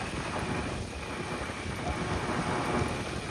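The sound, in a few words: rain starting with thunder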